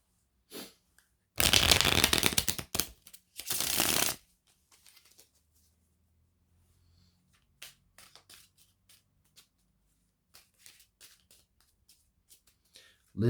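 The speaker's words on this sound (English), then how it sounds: "let me just give this a good shuffle." Tarot cards are riffled in two quick shuffling bursts, the first about a second long and the second shorter. Faint rustles and small handling noises follow in near silence.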